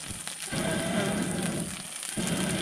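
Steady rain during the rainy season at an outdoor cooking spot, a continuous dense hiss that holds throughout.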